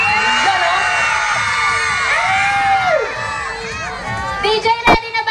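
A loud crowd shouts and cheers continuously at a live rap show, with whoops and high voices rising and falling, ending in a burst of yells.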